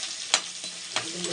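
Garlic and asafoetida fry in a pan, a short soft sizzle broken by two or three quick scraping strokes of a stirring spoon.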